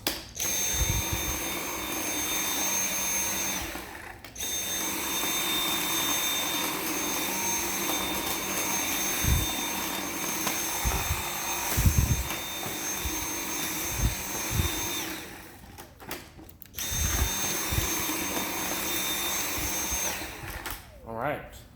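Dyson V7 Motorhead cordless vacuum cleaner running through a house: a continuous loud motor whine with brush-bar hum, cutting out briefly twice, with someone talking over it and occasional bumps of the head against surfaces.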